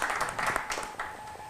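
Audience applause at a live event billed as the Super Bowl of Love, a scattered patter of claps that is faint and distant and fades after about a second.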